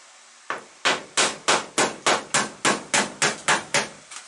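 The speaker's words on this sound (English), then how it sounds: "This hammer is just way too overkill." Eleven sharp metallic hammer strikes on a 1965 Mercury Comet body panel land in a steady rhythm, loud and close, each ringing briefly before the next blow.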